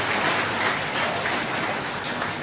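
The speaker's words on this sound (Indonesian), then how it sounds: "Kita beri tepuk tangan boleh untuk panitia" Applause for the organizing committee during a first Mass at a parish church: dense, steady clapping from a large congregation, sustained and even throughout with no voices on top.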